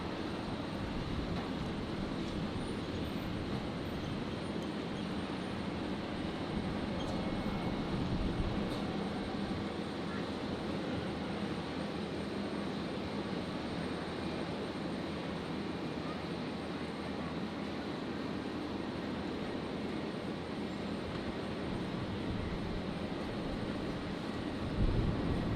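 A Qantas Airbus A320 jet idles while lining up on runway 01 right at Brisbane Airport, a steady distant engine rumble and whine that holds at an even level throughout without voices.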